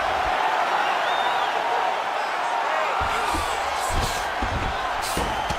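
Arena crowd at a WCFC MMA event reacting to a strike thrown by the bottom fighter in side control, a steady broad roar with scattered thumps and shouts after a few seconds, fairly loud and continuous.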